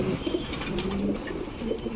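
Pigeons coo softly in low, repeated murmurs against a busy background hum at a pigeon market, with no one speaking.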